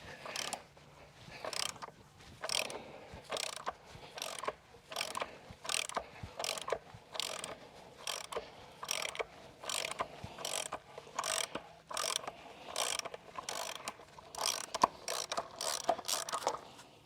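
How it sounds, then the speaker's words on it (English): A socket wrench ratchets in a long, even series of quick clicking bursts while working a corroded anode out of a water heater, close and fairly quiet, with no talking. "I'll go get a socket and we'll get that out, hopefully."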